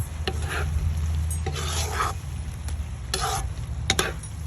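Spinach and shrimp fry in coconut milk over medium heat, a close low sizzle punctuated by several swishing, scraping stir strokes at irregular intervals, with no one speaking.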